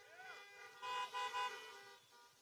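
Car horns honk at a drive-in rally, several toots overlapping in a short burst while a voice talks underneath.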